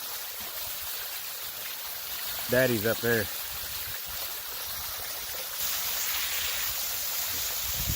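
Steady rushing of a small waterfall stream in Jefferson County, Kentucky runs throughout, with a brief voice speaking over the flowing water.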